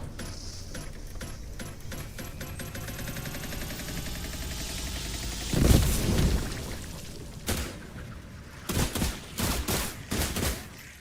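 Grenades blasting against oxygen tanks in The Last Caretaker, a game set in a robot factory: a dense crackle of gunfire-like bursts builds to a loud boom near the middle, followed by several sharp explosive hits with no talking.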